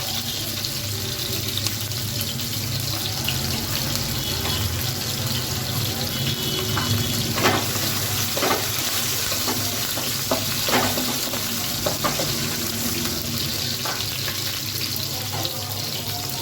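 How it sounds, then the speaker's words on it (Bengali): Fenugreek seeds and green chillies sizzle steadily in hot oil in a home kitchen, loud and close, with a constant frying hiss and a few clicks and stirring sounds throughout. "এখন মেথি সম্বার দেবো।"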